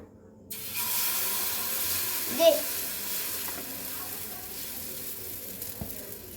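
A little hot oil sizzles and hisses in a pan as food fries, a steady moderate sizzle with a brief louder burst partway through and faint kitchen background.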